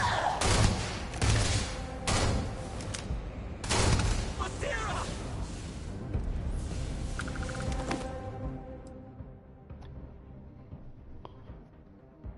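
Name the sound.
gunfire in the video game Starfield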